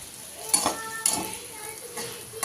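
Vegetables fry in a pan with a soft, steady sizzle, broken by a few sharp clinks of a utensil against the pan as they are stirred.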